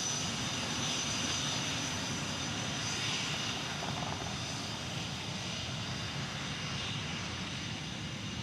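A fixed-wing airplane taking off at Dallas Love Field produces a steady, broad engine roar that holds loud and constant throughout, with no talk over it.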